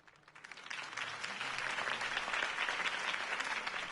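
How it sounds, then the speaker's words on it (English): Steady crowd applause in Batman: The Telltale Series swells in from quiet and holds at an even level, dense clapping with no voices standing out. "could have heard that applause"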